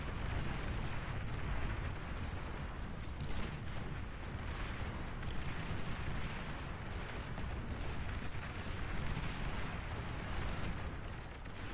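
A commander unit blows up during a large 8v8 battle in the real-time strategy game Beyond All Reason, heard as a loud, sustained roaring rumble of explosions that fills the whole stretch without letting up.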